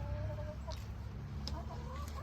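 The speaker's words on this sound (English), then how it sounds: "This is my favorite little hen. She's a speckled Sussex." A speckled Sussex hen clucks softly in short, scattered notes over a steady outdoor background of farmyard noise, close but not loud.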